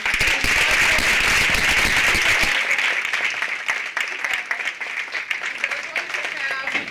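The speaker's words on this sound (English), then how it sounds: "Please give them a round of applause." Applause from the audience at a women's leadership colloquium as two women are welcomed, loud and full at first, then thinning into scattered claps that fade over several seconds.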